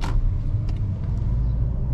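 A car makes a full U-turn on a road during a driving-exam lesson, with a steady low engine rumble and tyre noise throughout, close and continuous with a few faint clicks.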